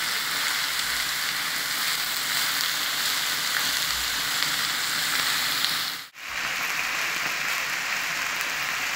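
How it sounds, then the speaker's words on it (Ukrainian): Minced meat frying briskly in a pan, a steady loud hiss and crackle of sizzling throughout, with one brief dip near the end before it resumes. "Фарш жариться дуже швидко, це не м'ясо."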